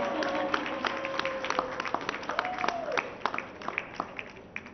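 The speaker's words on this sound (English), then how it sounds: "Big round of applause to Lisa." Audience applause at an Indian event honoring a contestant named Lisa, scattered sharp hand claps from a modest crowd, thinning toward the end, with a voice and tonal sound briefly underneath.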